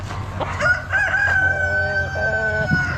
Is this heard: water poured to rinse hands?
no